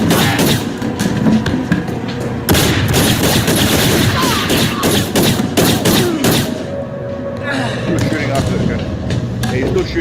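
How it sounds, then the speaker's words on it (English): Gunfire from a played video, sharp repeated shots and rapid bursts popping steadily in the background while people talk over it. "He's still shooting after the guy's dead."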